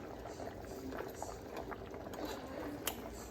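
A pan of water boils on the stove for a Jamaican-style Sunday dinner, giving a faint, steady bubbling with small pops, quiet and close.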